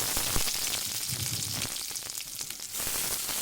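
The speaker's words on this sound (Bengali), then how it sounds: "এইবার আমি ধুয়ে রাখা শাকটাকে এর মধ্যে দিয়ে দেব" Washed kalmi greens go into a pan of frying potatoes, a soft, moderately close sizzle and crackle with scattered spitting pops, easing slightly toward the end, with no voices.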